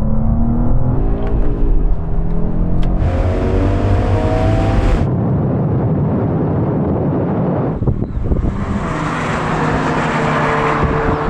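Loud drag-race acceleration from a BMW M2, Audi RS3, Mercedes-AMG A45 S and Porsche Boxster GTS, engines roaring and rising in pitch through the gears with a gearshift break midway and wind rush over the microphone, no talking.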